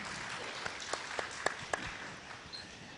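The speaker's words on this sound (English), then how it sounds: "Big round of applause for Raju, sir." An audience at the FICCI Frames closing ceremony applauds film director Raju Hirani, moderately faint clapping with a few distinct sharp claps standing out, no voices.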